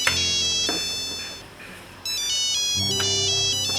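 A phone's ringtone for an incoming call plays a bright, repeating melodic phrase, loud and near, pausing briefly before the tune starts again.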